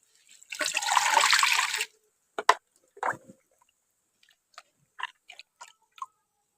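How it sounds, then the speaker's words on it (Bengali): Water pours into flour dough for washing in a short, splashy rush, followed by scattered wet squelches and small knocks as the dough is handled up close. "এর মধ্যে আবার জল দিয়ে দিচ্ছি।"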